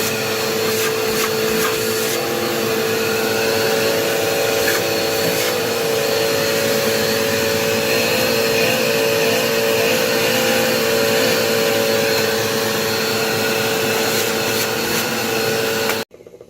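A Bissell PowerForce Helix Turbo Rewind vacuum cleaner runs loud and steady during a suction test, a constant motor roar with a whine on top that holds for the full length and then drops off abruptly at the end.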